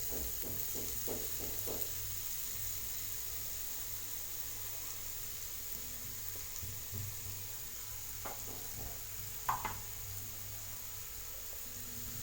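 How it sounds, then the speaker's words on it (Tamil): Grated carrot fries quietly in ghee in a pan for carrot ladoo, a soft, faint sizzle with a few scattered scraping taps of stirring near the start and again later. "நல்லா வறுத்துக்கலாம். கேரட் பாருங்கள், நெய்யிலேயே"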